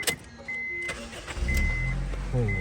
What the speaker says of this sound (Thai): มาฟังเสียงสตาร์ทนะครับ